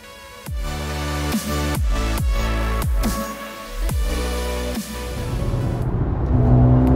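A Mercedes-AMG GLA 35 compact performance SUV accelerates hard, its engine revving up loudly through several quick gear changes, each shift marked by a sharp dip and rise in pitch before a steady roar at the end.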